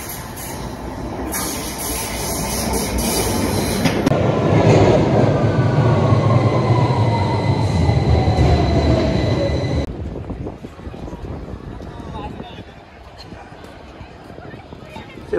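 A London Underground train rides along at rush hour, a loud rolling clatter and rumble with rising wheel squeal. It drops abruptly to a quieter carriage hum with background voices near the end.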